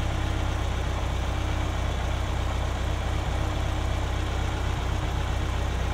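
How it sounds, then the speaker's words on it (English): A Ferrari engine with K-Jetronic mechanical fuel injection idles steadily nearby, a constant low, even hum and drone throughout six seconds, no voices. "as you can hear, it's not affecting the engine."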